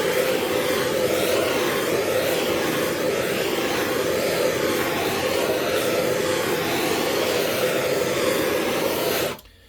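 A heat torch flame heating a stuck turbocharger exhaust housing gives a loud, steady, close roaring hiss that holds for about nine seconds, then cuts off abruptly.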